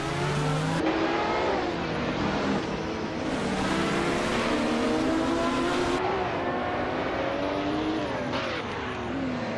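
Race cars launch off the starting line, engines revving hard and climbing through gears with overlapping whines, loud and close throughout, one car surging past near the end.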